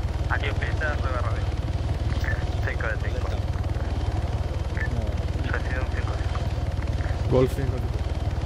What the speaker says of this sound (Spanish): Sí, va a montar en los helicópteros.